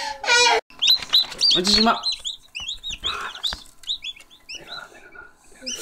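Newly hatched chicks peep in high, rapid bursts from eggs being hatched, with a hen-like clucking and a person speaking close by over the chirps.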